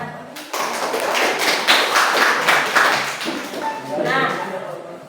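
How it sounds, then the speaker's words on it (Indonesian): A school class claps its hands together, a burst of many close palms tapping in a quick, steady patter that swells for a few seconds and then fades. "Oke, tepuk tangan."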